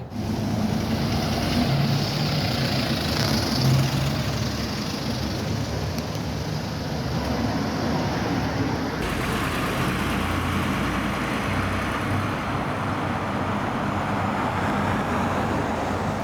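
A Mercedes-Benz Citaro route 102 bus pulls away: a steady, close engine drone with road rumble and hiss, holding loud for the whole stretch, with a slight change in tone partway through, no talking.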